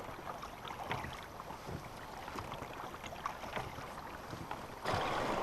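Oars work a small rowboat upstream on the Indian River against a gentle current, giving soft, irregular splashes and water wash under light wind noise.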